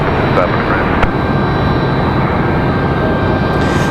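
Airbus A321 jet airliner at Raleigh-Durham International Airport, a steady loud broadband engine roar filling the whole stretch, with a faint radio voice underneath.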